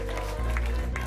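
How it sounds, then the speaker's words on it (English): Congregation clapping hands in a church during worship, a brief dense burst of applause mixed with voices and a low, steady background rumble. "Give the Lord a hand clap of praise."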